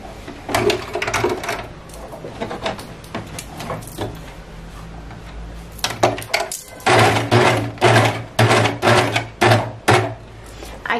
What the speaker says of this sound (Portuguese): E vou vir overlockando essa beiradinha, juntando o tecido e o elástico de fora a fora nessa cintura